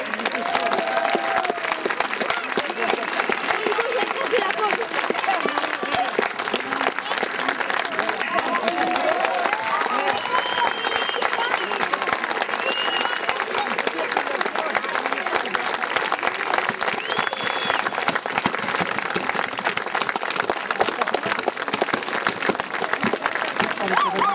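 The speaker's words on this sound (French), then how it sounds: "Je vous demande d'applaudir chaleureusement les deux cavaliers." Warm applause from a crowd for two horse riders after an equestrian demonstration, a thick, sustained roar of clapping that continues unbroken, mixed with crowd murmur and scattered cheers.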